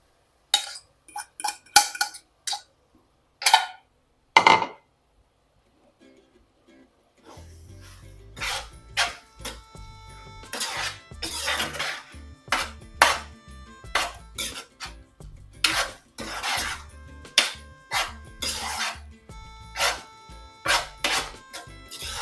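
Beaten egg being stirred into a curry in a pan: a spoon clatters and scrapes against the metal in irregular strokes. A few sparse knocks come first, then a brief pause, then steadier, busier mixing.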